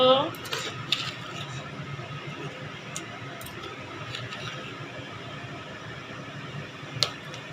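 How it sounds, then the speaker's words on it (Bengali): Chicken being mixed with salt by hand in a metal bowl, with faint clinks and scrapes of utensils against the dish at a steady, quiet level and a sharper clink near the end. "নুন দিয়ে এবার সব মাখিয়ে নেব এরকম সব মাখিয়ে নেবে"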